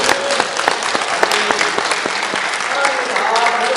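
Church congregation applauding together in a Sunday worship service, a dense, steady wash of many hands clapping close by, with a few voices calling out beneath it.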